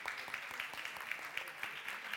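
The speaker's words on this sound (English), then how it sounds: "And an applause." Applause from a conference audience at a food and nutrition forum in Brussels, a steady, fairly faint patter of many hands clapping without pause, heard alone.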